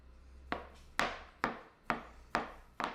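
Knife chopping boiled potatoes on a board: six crisp, evenly spaced cuts about half a second apart, close and clear against a quiet kitchen.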